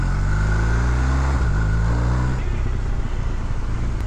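A BMW R1250R Sport motorcycle engine runs loud and close, rising and dipping in revs over a few seconds, with a voice talking over part of it.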